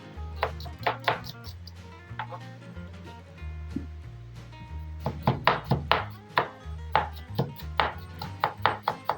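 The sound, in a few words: chopping onion thinly with a knife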